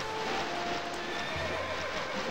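A horse whinnies and hooves clip-clop steadily while cantering in the video game Horse Olympics, over continuous game music, the galloping sound close and prominent.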